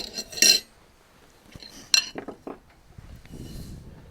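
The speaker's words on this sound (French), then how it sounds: "Juste prendre une assiette propre." A clean plate picked up and set down while making homemade sauerkraut, two sharp ceramic clinks with softer knocks and clatter between them, close and distinct against a quiet room.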